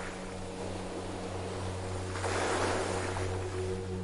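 Ocean waves wash onto a beach as a steady, soft hiss with one gentle swell midway, under a low, sustained music drone.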